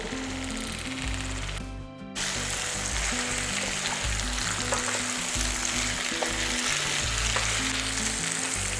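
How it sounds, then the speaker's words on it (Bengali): Ash gourd sizzles steadily in a pan with ginger paste while being stirred, a loud continuous frying hiss with scraping stir sounds and a brief dip near the start. "আদাটা দেওয়ার পরে একটু কষিয়ে নেব যাতে আদার কাঁচা গন্ধটা চলে যায়"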